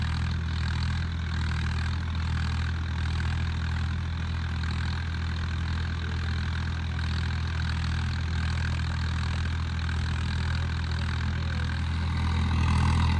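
A Swaraj 855 tractor runs with an 8 ft HLM super seeder attached, its diesel engine giving a steady, loud, low rumble close by, rising slightly toward the end.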